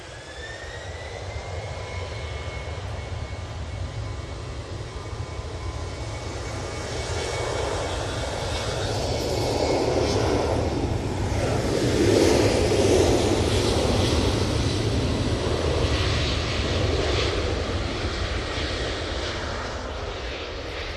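Jet airliner engines spool up for takeoff at Manchester Airport, a broad steady roar building gradually and swelling to a peak around the middle before holding loud and sustained, heard from a distance.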